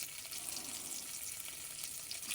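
Pangasius fish frying in oil in a home kitchen pan, a continuous hissing sizzle that holds at a steady low level for the whole moment, with no voices.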